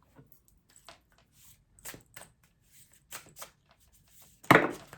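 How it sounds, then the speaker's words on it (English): Tarot cards being shuffled by hand, a series of soft, quick papery riffles and taps with gaps between them, ending in a louder burst near the end, close and quiet with no talking. "Ooh, not shuffling very well there."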